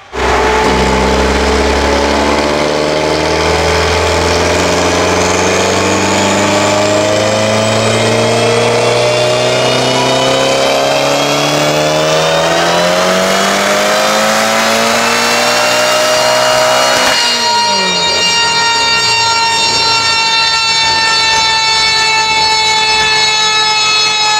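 A tuned car engine revs hard and climbs steadily in pitch for about seventeen seconds, then drops abruptly to a lower, rough, steady drone. The sound is loud, close and continuous, with no rev limiter cut and no talking.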